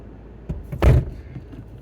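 A car door slams shut once, a loud, close thud in an otherwise quiet setting, preceded by a faint softer knock.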